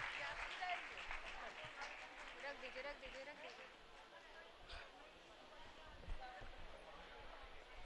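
Audience at a Jain religious gathering clapping to welcome an elderly nun onto the stage, a broad, moderately loud patter of many hands sustained throughout, with crowd murmur and scattered talk mixed in.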